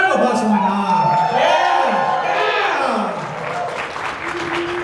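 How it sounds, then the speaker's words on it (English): Audience at a community gathering gives a round of applause with cheers and whoops, loud and close, a speaker's voice running over the clapping. "Round of applause for my mom."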